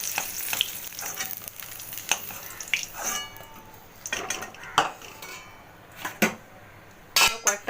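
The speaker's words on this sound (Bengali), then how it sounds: "অতিরিক্ত কড়া করে ভাজবে না, এইভাবে ভেজে ভেজে তুলে ফেলবে।" Pointed gourd pieces fry in oil in a pan, a faint sizzle broken by sharp clinks and scrapes of a utensil against the pan as pieces are turned and lifted out, with no talk.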